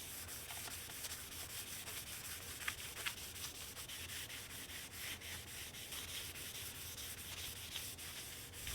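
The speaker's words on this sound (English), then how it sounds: "I'll come back with a clean towel and wipe away any excess oil." Steady close-up rubbing and swishing as a clean towel wipes excess oil off the wooden stock of a Mannlicher 95 rifle in 8x50R, continuous strokes with a few brief louder scuffs, no talking.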